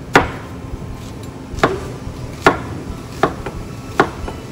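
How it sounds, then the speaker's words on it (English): A knife cuts down through an onion on a cutting board: five distinct, sharp chops at an unhurried, fairly even pace, close and clear with no talking. "I'm just gonna cut down and the end will hold it together"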